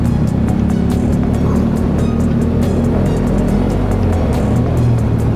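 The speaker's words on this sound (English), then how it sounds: "We're slightly stuck in traffic." Car engine and road noise come from inside a car stuck in city traffic in Thailand, a dense and constant loud rumble with no breaks or talking.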